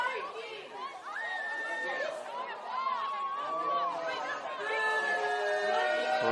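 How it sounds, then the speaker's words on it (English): Football crowd at a women's semi-final between Macarthur Rams and Sydney Olympic reacting with displeasure to a referee's call: a steady hubbub of shouting and jeering voices, moderately distant, with whistles and calls rising over the murmur. "I'm sure you can hear their displeasure in the crowd."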